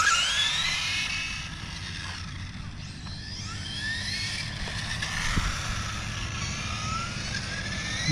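A Toyota Supra runs at half throttle with four-wheel drive engaged. Its engine note climbs in repeated rising whines over steady road and drivetrain rumble.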